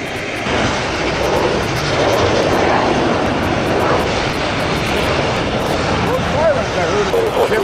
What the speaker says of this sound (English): See, there's a fighter jet there now.